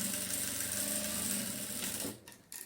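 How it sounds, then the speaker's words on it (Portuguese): A sewing machine topstitches a denim bag, a continuous close mechanical whir running steadily for about two seconds before stopping, followed by a brief second burst. "Vou passar aqui uma costurinha de pesponto"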